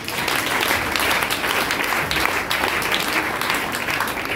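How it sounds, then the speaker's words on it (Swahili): A church congregation clapping their hands together, with dense, continuous applause that stays loud and close for the whole stretch. "Pigie makofi."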